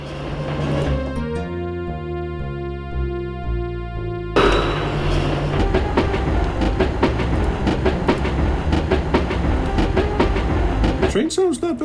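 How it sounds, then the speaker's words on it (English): Video game train rolling along rails with a steady clickety-clack, beginning over a tonal musical passage and then turning into louder, continuous rail noise with regular clicking, a voice talking over it. "Train sound's not bad."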